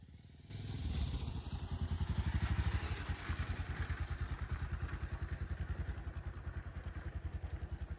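A motorcycle rides a snow-covered, slippery stony road in the hills of eastern Nepal, its engine chugging in a steady, quiet, rhythmic pulse with a faint clatter, no talk heard.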